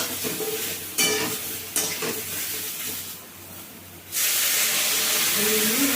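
Eggplant pieces hit a hot pan for a neem-leaf shukto, with crackling stirring and clatter, then a loud steady sizzle and hiss of frying that swells near and fills the last seconds.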